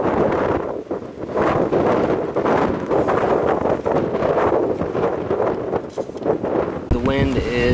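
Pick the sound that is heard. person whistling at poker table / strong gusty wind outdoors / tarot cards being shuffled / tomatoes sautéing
strong gusty wind outdoors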